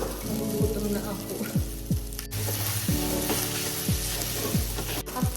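Garlic fried rice sizzling in a pan while being stirred, a continuous frying crackle with roughly eight rhythmic scrapes of a spatula and two sharp clacks, close and with no voices.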